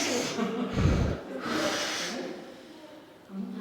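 Forceful breaths come in and out in time with an exercise move at a rehab center: a sharp, close exhale-snort burst, then a long hissing breath, with a quieter breath near the end.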